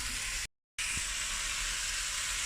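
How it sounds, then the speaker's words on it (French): A steady, bright sizzle hisses continuously from food simmering in a pan, briefly cut to silence before resuming just as loud. "D'abord je laisse mijoter un peu pour que genre ça dore un peu tout au fond."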